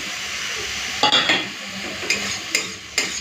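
Prawns and red amaranth greens are stirred in a sizzling pan, with several sharp scrapes and clinks of a spatula against the metal over a soft, steady frying hiss.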